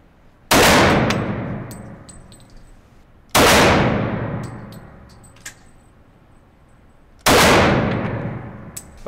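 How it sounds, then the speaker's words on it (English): Three loud handgun shots fired at targets on a police shooting range, evenly spaced a few seconds apart, each a sharp crack with a ringing decay and small clicks between. "We had 6 shots total."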